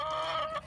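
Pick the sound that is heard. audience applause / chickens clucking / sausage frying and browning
chickens clucking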